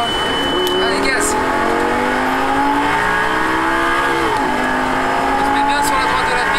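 A Lamborghini Gallardo accelerates hard on a race track, its engine screaming up through the revs with a brief shift dip, loud and close, while an instructor speaks over it.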